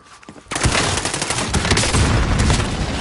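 Loud, rapid gunfire erupts suddenly after a brief quiet moment during a Call of Duty: Warzone match, then continues as dense, overlapping blasts without any pause.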